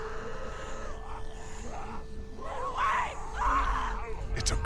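A girl screaming in The Walking Dead video game, a few strained, wavering cries rising in pitch, heard at moderate distance over ambient game noise.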